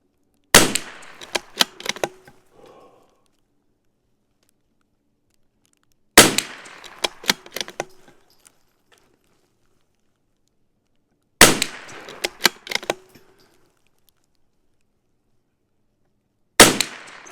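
A CZ 457 rimfire rifle fires in four separate volleys, each a quick string of sharp, close cracks with faint metallic clinks, separated by several seconds of silence.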